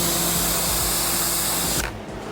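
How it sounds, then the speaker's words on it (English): A Giraffe Tools UltraFlow pressure washer with a 40-degree nozzle blasts stuck-on mud from a car windshield, a loud steady broadband hiss and motor drone that cuts off abruptly near the end. "Let's blast it away with the 40 degrees nozzle."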